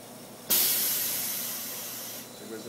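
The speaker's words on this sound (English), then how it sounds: "Was the valve for the exchange chamber. It's vented" The exchange chamber valve on a Hitachi S-8840 scanning electron microscope vents with a sudden loud hiss that holds steady and slowly fades over about two seconds before cutting off.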